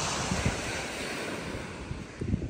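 Sea waves wash onto a shore in Sweden, a soft, continuous surf hiss mixed with wind buffeting the microphone, fairly faint and with no voices.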